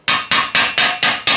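A straight flat-faced hammer planishes a steel greave in a rapid, even run of six light, bright metallic strikes, close and loud, each ringing briefly before the next.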